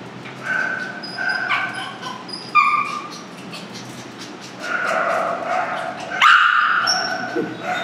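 Several dogs of different breeds bark and yip at an animal hospital in Kolkata, in irregular bursts, some near and loud, with whimpers and overlapping calls between the barks.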